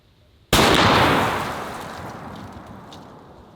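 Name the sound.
50 BMG 660 grain military ball round fired at kettlebell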